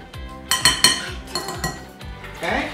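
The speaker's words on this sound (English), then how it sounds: "we're just gonna give this a quick little stir" Utensil clinks against a bowl while salt is stirred into dry baking ingredients for shortbread, several quick taps and scrapes close up, with brief talk nearby.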